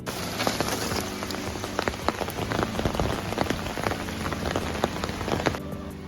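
Rain falls steadily on a city street in China on a wet day, a close, constant spatter on surfaces with scattered sharper drips popping out, and nobody speaking.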